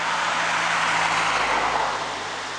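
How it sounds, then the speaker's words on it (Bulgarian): A river rushes steadily in a winter landscape, a broad continuous hiss of flowing water that stays loud and even throughout, with no voices. "Реката си шумоли"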